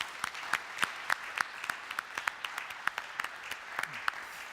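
An audience at a scientists' panel during an environment-day event gives a short, moderately loud round of applause, with sharp claps spread across the room.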